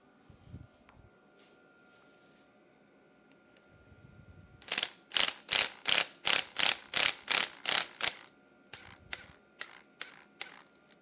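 Socket ratchet loosening a splash guard bolt on a Honda CB500, a close series of rapid, evenly spaced clicks after quiet handling noises, then a few sparser clicks.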